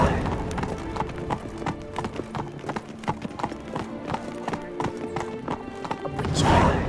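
Roach the horse galloping in The Witcher 3, a rapid rhythmic run of hoofbeats close and loud, ending with a short whinny.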